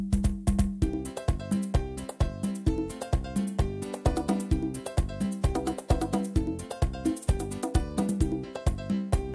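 A Yamaha PSR keyboard plays a merengue rhythm pattern with full auto-accompaniment, a fast steady beat of percussion hits, bass and chords driving without pause.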